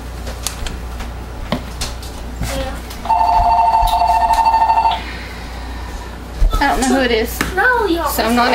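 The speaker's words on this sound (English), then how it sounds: "There's my telephone." A telephone rings in a home workshop during soap making, a bright warbling trill lasting about two seconds amid clattering handling noises, followed by chirpy vocal sounds.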